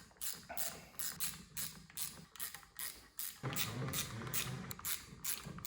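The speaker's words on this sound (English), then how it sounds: "Now we can take our 10mm and start tightening these down in a crisscross pattern." A 10mm ratchet clicks in quick bursts as bolts are snugged down in a crisscross pattern on a restored Yamaha Banshee, with close, rhythmic pawl ratcheting and short pauses between strokes.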